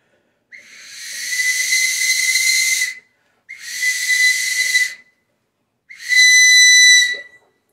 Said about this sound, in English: I think there might be some support material right in the whistle part that's not supposed to be there because it's not easy to blow